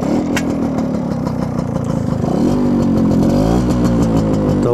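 A modified 1998 Yamaha RX 100 motorcycle converted into a dirt bike runs with a loud, close two-stroke exhaust, holding a steady idle before revving up and rising in pitch, with no talk over it.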